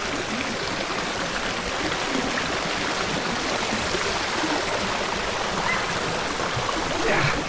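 Steady, full rush of a river stream flowing close to a waterfall at Timbugan River, an even broadband roar holding unbroken from start to finish.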